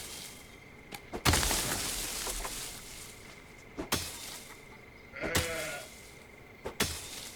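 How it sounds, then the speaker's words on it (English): Sheep bleating in the Force of Nature 2 survival game, a few short bleats at moderate distance over a busy ambient game backdrop with intermittent sharp noises. "There's a sheep over here."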